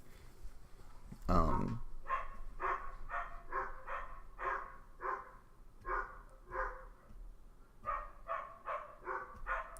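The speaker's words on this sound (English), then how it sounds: "There's some loud ass dogs next door." Loud dogs next door bark repeatedly in short, rhythmic bursts, several volleys with brief pauses, heard from a short distance with no talking.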